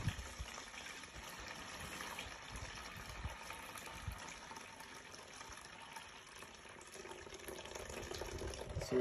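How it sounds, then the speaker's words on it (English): A soil and water mixture is poured steadily from a container, a continuous faint gushing, splashing wash with no clear breaks. "you're just gonna pour it"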